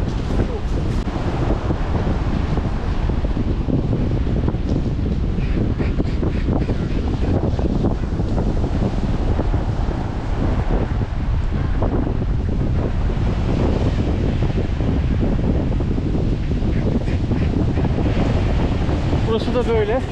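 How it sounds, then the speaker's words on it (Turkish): Ocean waves and strong wind roar continuously on the South Iceland coast, with steady surf wash and heavy gusts buffeting the microphone throughout. "dalgalar şöyle geliyor normalde"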